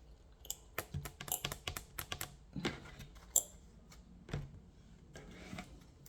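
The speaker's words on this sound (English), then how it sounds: "let me shuffle this deck right here." Quick bursts of papery riffling and soft taps, close by, like cards being shuffled, with short pauses between flurries.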